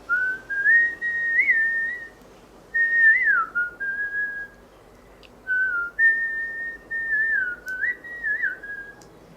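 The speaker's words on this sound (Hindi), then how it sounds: "एक बहुत इम्पॉर्टेंट स्किल होती है सीटी बजाना और गाना गाना." A person whistles a clear melodic tune alone, in three phrases of sustained and gliding notes separated by short pauses, close and fairly loud over faint background hum.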